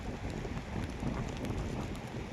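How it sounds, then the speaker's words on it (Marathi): Steady soft patter of light rain during crab catching, a continuous broadband hiss with faint scattered drops, no voices. "थोडा थोडा पाऊस पडतोय मला दिसतोय"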